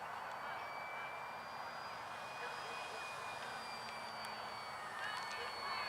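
E-Flite Commander RC model airplane flying, its electric motor a faint whining drone with steady high tones overhead, carrying on continuously against outdoor background noise, with people talking nearby.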